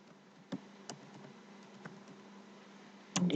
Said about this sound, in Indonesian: kita ketik Adi Jaya Dealer